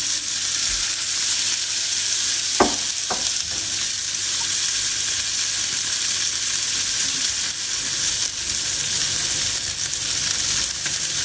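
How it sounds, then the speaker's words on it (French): Smash burger patties dropped into a smoking-hot pan sizzle and fry steadily and loudly, with a couple of sharp clatters early on as the meat goes in; no one speaks. "On va prendre les burgers, on les met dedans."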